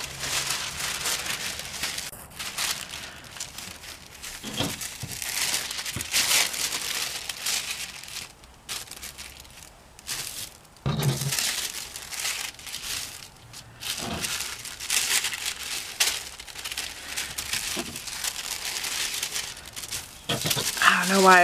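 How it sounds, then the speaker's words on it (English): Tissue paper for packing cheer bows is handled and folded, giving close crinkling and rustling that comes in bursts with brief pauses. "I'm going to move this box out of the way really quick so I can fold up the tissue paper."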